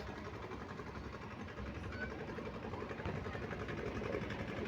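Two boats approach across the water, heard from aboard a ferry, their engines making a continuous low, throbbing drone that stays moderately faint and steady throughout, with no voices over it.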